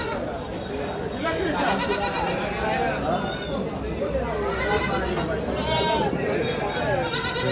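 Goats, including kids, at a large livestock market in Maharashtra, bleating repeatedly and overlapping amid a crowded bustle of voices, close and fairly loud.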